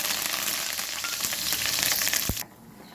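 Mustard seeds and curry leaves fry in hot oil with a loud, dense sizzle and spattering crackle that runs steadily, then drops sharply to a faint hiss just before the end.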